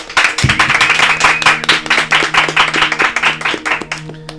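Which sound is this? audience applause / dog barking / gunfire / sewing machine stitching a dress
audience applause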